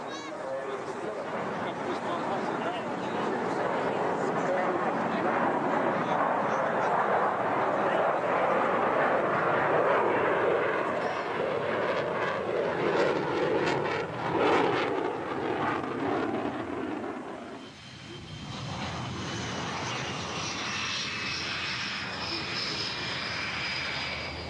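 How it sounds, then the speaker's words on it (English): A Su-27 fighter jet makes a slow, low pass at a very high angle of attack, its engines roaring loudly and continuously before the tone shifts into a rising whine. Someone narrates over the engine noise. "This is ex-MiG pilot Anatoly Kvochur, now flying Su-27s, making a low-speed pass at a very high angle of attack"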